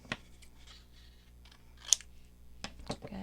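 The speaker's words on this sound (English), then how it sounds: "we're going to cut the corners into a tag shape" Scissors snip the corners off a small paper tag in a few sharp, close cuts with quiet pauses in between, one louder snip standing out near the middle.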